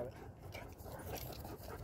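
A Caucasian Ovcharka dog whines and yips at a dog park in short, fairly faint bursts while people talk nearby.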